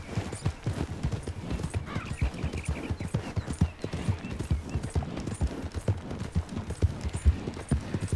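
A shod horse in Red Dead Redemption 2 clip-clops along at a steady gait, hoofbeats repeating rhythmically and fairly close for several seconds over a low background rumble.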